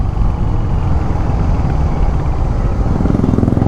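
A Royal Enfield Hunter 350 motorcycle ridden through city traffic, its engine giving a loud, steady low rumble up close, with continuous road and wind noise throughout.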